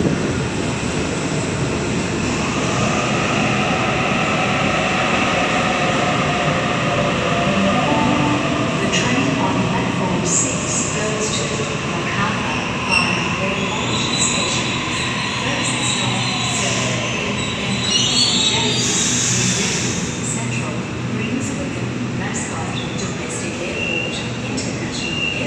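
A suburban train pulls into platform 6 at Wynyard station, Sydney, with a steady, loud rumble of wheels and motors under the enclosed platform's reverberant air, plus brief squeals and clatter near the end as it slows.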